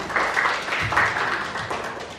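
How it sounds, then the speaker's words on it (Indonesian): A room of kindergarten teachers at a storytelling contest awards ceremony claps together, a brisk patter of hands with a few louder bursts, fairly close and continuous. "Tepuk tangan dong buat kita semua."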